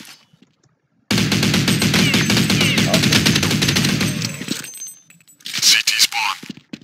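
Dual pistols fire in an old version of Counter-Strike, a rapid, loud, continuous burst of shots lasting about three and a half seconds, followed by a few scattered clinks and cracks.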